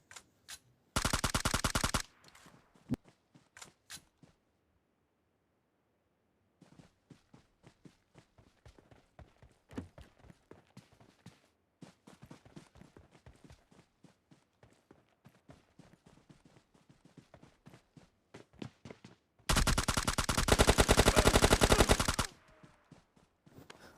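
Gunfire in PUBG Mobile Lite: two loud sustained automatic bursts, one early and a longer one near the end, with scattered single shots and footsteps in between.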